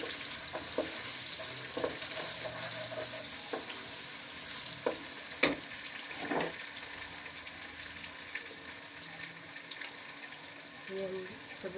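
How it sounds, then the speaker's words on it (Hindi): Chopped tomatoes go into onions frying in a pan for a Lahori chana curry, raising a steady sizzle with a few clinks and scrapes of stirring, close by. "इसमें हम टमाटर कटे हुए डाल देते हैं।"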